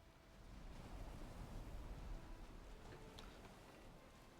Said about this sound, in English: Oh yeah, it's a thunderstorm.